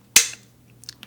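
A rifle bolt being cocked back: one sharp, loud metallic snap up close, followed by a few faint small clicks in a quiet room.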